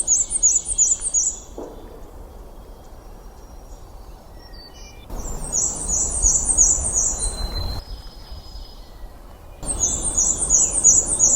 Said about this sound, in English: Once again, the squeaky wheel, weetsy, weetsy, weetsy of the black and white warbler.